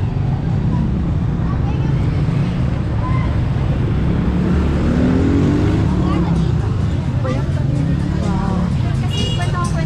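Trikes, motorbikes and cars clog the traffic at Apo Market, making a loud, steady street roar of engines that runs throughout with no break, while the engines pass close by.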